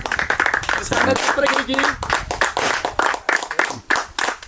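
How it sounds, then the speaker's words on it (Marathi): A crowd claps at a pomegranate market auction where the fruit fetched 210 rupees per kilo. The applause is fairly close and steady, with talk running over it. "चला जोरदार टाळ्या वाजवा"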